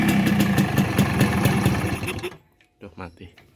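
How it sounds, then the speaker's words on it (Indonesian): A Yamaha RS100 motorcycle engine runs at a steady, buzzing idle close by, then cuts out abruptly, leaving brief faint clicks and rustles. "Untuk suaranya mesin kita cek."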